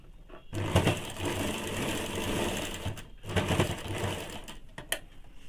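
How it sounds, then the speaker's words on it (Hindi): A sewing machine stitching elastic into baby panties, a fast steady mechanical whirr in two bursts separated by a brief pause, close and moderately quiet. "इलास्टिक अंदर घुसा लेने के बाद अब दोनों को लेकर सिल लेंगे"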